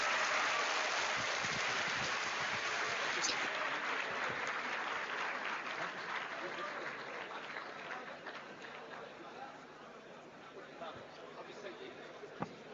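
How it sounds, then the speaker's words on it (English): A business conclave audience claps for a panel of four speakers, dense, even applause that starts full and slowly thins out, with faint murmuring among the crowd. "All four of them deserve a big clap."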